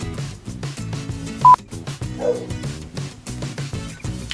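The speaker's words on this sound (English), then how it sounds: "My dog is barking." A dog barks and yips in short bursts over background music and a brief electronic beep.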